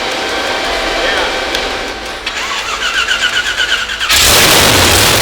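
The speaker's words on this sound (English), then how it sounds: "got their engine to fire" A drag race car engine cranks with rapid rhythmic chugs, then catches and fires into a loud, roaring idle.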